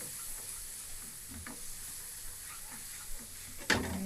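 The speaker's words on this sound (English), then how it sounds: "Stir that all together." Paprika and spices stirred in hot oil in a pan, a soft steady sizzle with faint scraping strokes and a sharper clatter near the end, no one talking.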